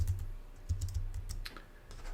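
Rapid keystrokes on a computer keyboard while entering code in an editor, a close, steady run of clicks with brief clustered bursts and no voices.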